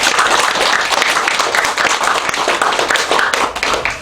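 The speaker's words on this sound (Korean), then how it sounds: "우리 하나님께 영광 박수 올려드리겠습니다." A congregation at a Korean church worship service claps loudly in unison, dense rapid hand claps filling the room steadily without pause, no voices over them.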